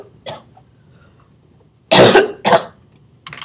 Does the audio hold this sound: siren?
no